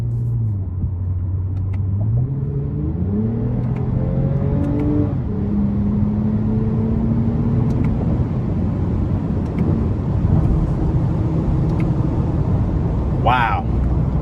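A 2021 Toyota Avalon TRD V6 in sport mode makes a loud, steady engine drone from inside the cabin, its pitch climbing and stepping through paddle-shifted gear changes under road rumble.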